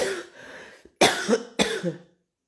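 Three harsh coughs from one person, close up, the first drawn out, then two sharp bursts in quick succession before silence.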